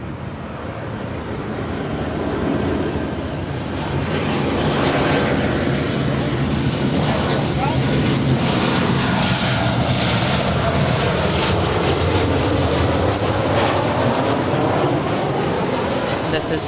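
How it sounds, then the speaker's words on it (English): A Southwest Boeing 737-800 jet landing at LAX, arriving from St. Louis: a loud, steady jet-engine roar building over several seconds and sustained close by, with people talking faintly underneath. "This is Southwest Flight 224 coming in from St. Louis. It's a 737-800."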